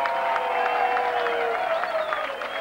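Crowd at a 1994 gala in Kokkola applauds warmly, sustained clapping and cheering from the hall with a held musical tone running underneath.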